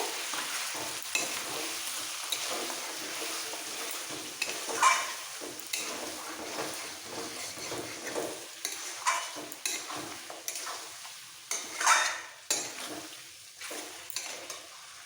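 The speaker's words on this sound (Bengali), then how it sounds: "টক দই দেওয়ার পরে একটু কষিয়ে নিয়েছি" Mutton sizzles as it is stir-fried with sour yogurt for Golbari-style mutton kosha, with repeated scraping and clinking of a spoon against the pan over a steady fry.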